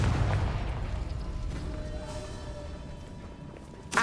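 A Confringo blast spell cast in Hogwarts Legacy on PS4: a low, busy rumble of game effects runs throughout, closing with a sudden loud explosive burst in the final moment.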